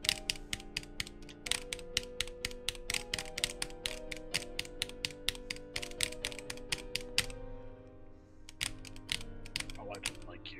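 Close, rapid keyboard clicking while playing Etterna, a steady stream of crisp key taps over quiet background music, briefly thinning out near the end before resuming.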